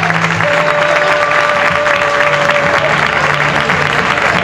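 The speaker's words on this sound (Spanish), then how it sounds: "Un aplauso muy grande para esta asociación" Sustained applause from an audience at the 2011 presentation of a Gitano association in Turre, a dense, steady wash of clapping that fills the whole stretch at fairly high level, with a faint steady tone running through part of it.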